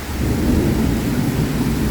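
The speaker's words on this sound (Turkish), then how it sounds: "Yağmur oldukça şiddetli ve gök gürültülü." Heavy rain roars steadily on a balcony in Istanbul with a low rumbling undertone of thunder throughout, loud and close, with no voices.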